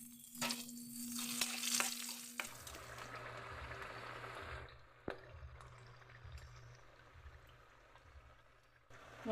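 Dried anchovies (dilis) frying in hot oil, a bright crackling sizzle at first that settles into a steady low bubbling, close and fairly loud with no talking.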